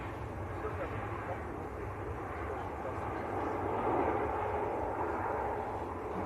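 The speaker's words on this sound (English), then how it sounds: "EasyJet's A321 Neo just touching down." An EasyJet Airbus A321neo landing at Manchester Airport makes a broad, distant jet roar that swells midway through and then holds steady, with faint voices in the background.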